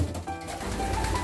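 Soft pigeon cooing from a loft where fancy and racing pigeons are kept, a low steady murmur that runs through the brief moment with no voices.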